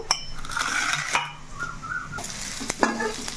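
Onions fry in a pan for a home-cooked chicken dish. A soft sizzle plays under several sharp scrapes and clinks of a utensil stirring against the pan. Nobody speaks.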